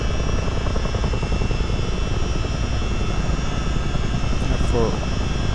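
A CH-47D Chinook helicopter starting up in a motion simulator gives a loud, steady engine and rotor roar throughout, with no clear speech.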